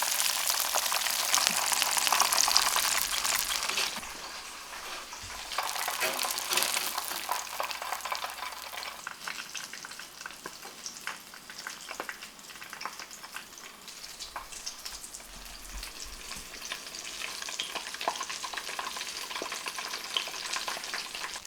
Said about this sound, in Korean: 겉면이 노릇노릇해질 때까지 튀겨서 건져낸다